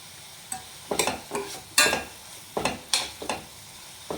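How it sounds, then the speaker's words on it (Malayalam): Chopped tomatoes are stirred and fried in a pan for a homestyle anchovy curry, with close, rhythmic scraping strokes of a utensil over a soft, steady sizzle, no voices. "തക്കാളി നല്ല രീതിയിൽ നല്ല പോലെ വഴണ്ട് നല്ല ഫ്രൈ ആയിട്ട് വരണം."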